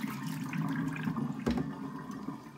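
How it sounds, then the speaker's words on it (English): Boiled russet potatoes being drained, a close gushing pour of hot water into a sink with a splashy surge midway, then a gentler trickle, no talk. "Just draining the potatoes now."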